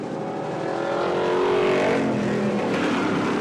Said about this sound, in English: Deb Rector in car number 20 running in 4th